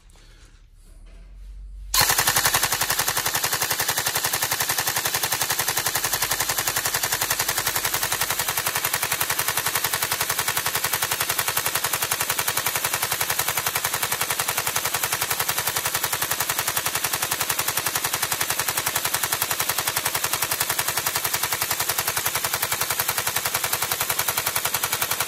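Upgraded Tokyo Marui MK46 NGRS airsoft electric gun firing a long continuous burst, a dense rapid mechanical rattle that starts abruptly after a brief quiet lead-in and stays loud and close throughout.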